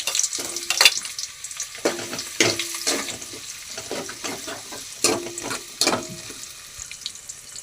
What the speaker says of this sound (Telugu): ముందుగా ఉల్లిపాయలు వేసుకుందాము